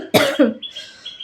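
Two quick, close coughs in a row, the first sharper than the second, followed by a faint raspy breath.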